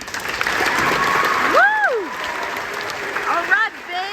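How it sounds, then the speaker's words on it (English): Graduation ceremony audience applauding a team across a stage, steady dense clapping throughout with a loud whoop shouted over it and a few voices and cheers rising near the end. "Let's give a round of applause to the graduation team"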